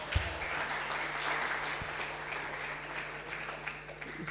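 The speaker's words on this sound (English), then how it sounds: "Can we have another round of applause, please?" An audience at a Social Media Day event on the Gold Coast claps steadily for a few seconds, a moderate, even wash of applause with a faint low hum underneath.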